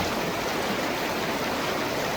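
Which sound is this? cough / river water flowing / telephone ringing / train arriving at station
river water flowing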